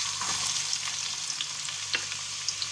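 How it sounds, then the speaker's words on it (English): Onion sizzling in about half a cup of hot oil in a pan, a steady close frying crackle with small pops and stir noises throughout, no talking. "I will fry till onion turns light golden in color"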